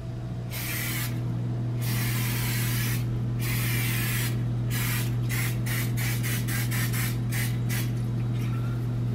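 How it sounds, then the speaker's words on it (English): Cooking spray hisses onto a baking pan for cookies in a home kitchen, a series of short close bursts of varying length over a steady low appliance hum. "I am going to spray it."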